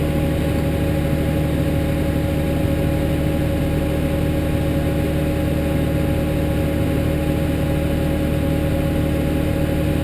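A steady, droning tractor engine hums at a constant pitch, loud and close from inside the cab, idling smoothly without changes for the whole stretch.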